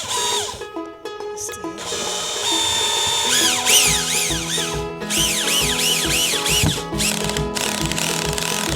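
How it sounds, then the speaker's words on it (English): A power drill drives modern drywall screws into an old drywall wall, its motor whining up and down in repeated rising and falling sweeps over a continuous busy background, close and loud. "I'm going to try putting some actual drywall screws, some modern day drywall screws in here."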